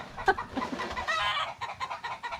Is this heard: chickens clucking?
yes